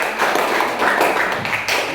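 A classroom group claps for the first-place team, a dense burst of hand claps running steadily for about two seconds with no voices over it.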